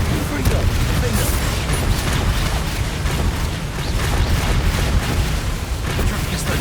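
Explosive spells cast in Hogwarts Legacy combat: a dense, unbroken roar of deep rumbling blasts and crackling bursts fills the whole stretch at a steady loud level, with no clear pauses between impacts.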